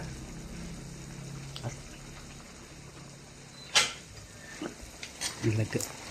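Fish being stirred in a frying pan for escabeche, with soft scraping and clinks of a utensil against the pan over a low sizzle, a few sharper knocks near the end.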